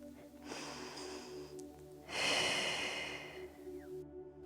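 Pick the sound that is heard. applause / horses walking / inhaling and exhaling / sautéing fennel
inhaling and exhaling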